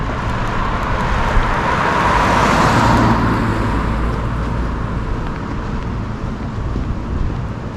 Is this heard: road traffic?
yes